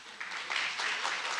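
An audience at a seminar on decolonization of education in South Africa claps for a speaker, giving a dense, steady patter of many hands at moderate loudness throughout.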